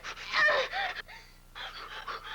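A woman in labor pants and gasps in quick, breathy bursts, two heavy clusters of rapid breaths split by a short pause, close and strained, with no talk over them.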